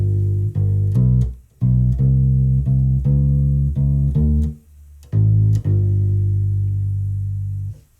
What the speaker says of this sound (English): So the slow blues ending sounds like this.